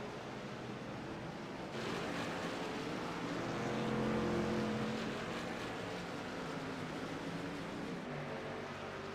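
Race trucks at speed on the Daytona road course, including the number 94 truck, give a steady continuous engine roar that swells and fades as they pass, with no talk over it.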